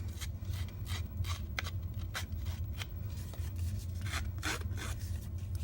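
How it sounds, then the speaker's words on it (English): Scissors scraping and rasping along the edges of a paper artist trading card to distress it, a steady close-up rubbing texture with repeated short scratchy strokes and no talking. "I just took my scissors and I am just distressing the edges of this card a little bit."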